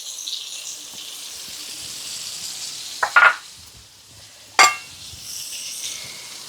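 Tamarind juice poured into a hot pan sets off a steady hiss of sizzling, with two sharp splashy surges as the liquid hits the oil, close and clear.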